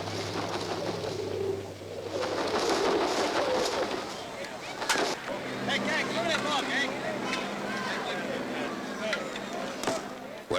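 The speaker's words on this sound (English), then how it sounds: "the traditional feeding of the pigeons in Trafalgar Square" Pigeons cooing and fluttering in Trafalgar Square, London, a crowded outdoor scene under a narrator's voice and period film music.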